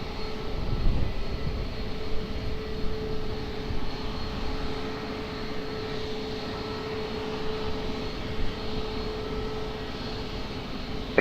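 A passenger airliner rolls for takeoff on runway 20 at Lisbon Airport, its engines a steady, distant broadband roar with a low sustained hum, holding level without voices.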